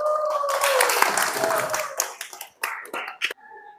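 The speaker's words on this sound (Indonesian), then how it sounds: "tepuk tangan untuk Arin." A classroom of students bursts into clapping for a classmate's presentation, dense and lively at first, then thinning into a few scattered claps, with voices sounding over it.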